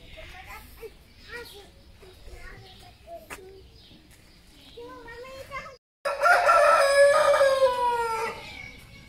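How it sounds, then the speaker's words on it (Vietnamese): A rooster crows loudly and close at the end while chickens peck at watermelon on a German countryside farm; earlier, soft clucks and a child's and adults' voices are heard. "Mấy con gà nó ăn dưa hấu."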